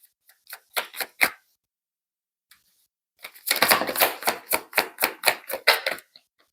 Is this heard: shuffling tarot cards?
yes